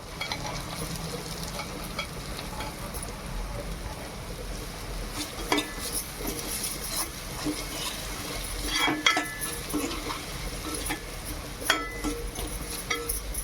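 Onions fry in a pan with ginger garlic paste and turmeric, giving a constant close sizzle broken by repeated stirring scrapes and light clinks of a utensil against the pan, with no talking.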